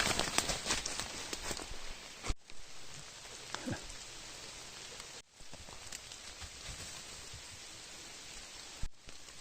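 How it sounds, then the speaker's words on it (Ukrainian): Steady rain pattering on surfaces nearby, a soft continuous hiss with scattered drops, heard alone without talk. "Дощик паде, змокли."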